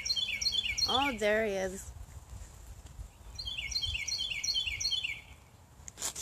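Small birds chirp at a backyard bird feeder in repeated bright, high tweets that come in bursts near the start and again in the middle. Someone speaks briefly over the calls, with soft outdoor background noise throughout.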